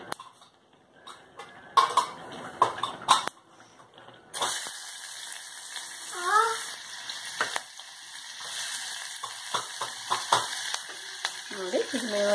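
Onions drop into hot oil with mustard seeds and cumin, the pan bursting into a sudden loud sizzle after quieter clatter, then steady frying with spoon scrapes and clinks and some voice in the background.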